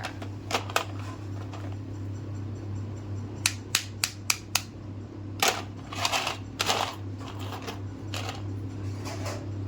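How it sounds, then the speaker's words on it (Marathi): Crisp, sun-dried sago and potato papads are handled on a plate, giving sharp, dry crackles and snaps, a quick cluster of clicks then scattered crunches, close over a steady low background hum. "आणि तुम्ही त्या पापडाचा पण आवाज ऐकू शकता."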